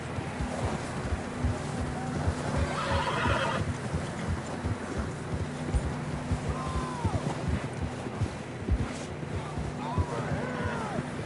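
Horses whinnying and hooves clip-clopping in Red Dead Redemption 2 on a windy outdoor trail, with a couple of distinct neighs rising over steady hoofbeats and a constant low background hum.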